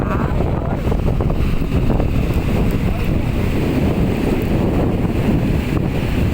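Strong sea wind buffets the microphone at Bang Saen beach in Thailand, a steady loud roar with surf mixed in and no clear pauses throughout.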